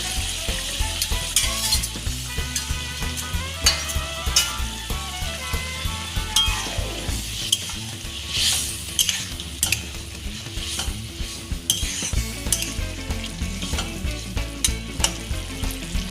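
An egg sizzles and fries in a hot pan for a Sichuan-style egg curry, with steady crackling frying noise, repeated scraping and stirring, and occasional utensil clinks, all close up and with no speech.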